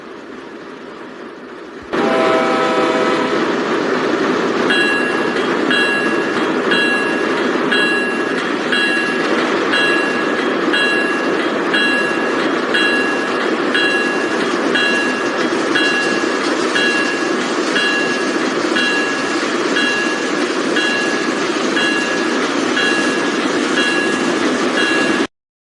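A train runs on rails, starting after a brief silence and then holding a loud, steady rumble with a rhythmic clickety-clack and sustained horn-like tones throughout, with no voices.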